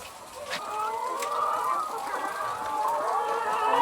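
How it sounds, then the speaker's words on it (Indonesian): Hens clucking and murmuring continuously on an egg farm during egg collection, several birds close by with overlapping calls and a few sharper squawks. "ada telur sedang diambil dikumpulkan"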